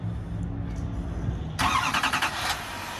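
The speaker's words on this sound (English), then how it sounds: "The Silverado 2500 HD Custom does have remote start, press lock twice, and then hold the top button." A 2023 Chevrolet Silverado 2500HD Custom crew cab diesel starts by remote: a steady low rumble, then a sudden loud burst of cranking and catching engine noise about a second long that settles back into idle.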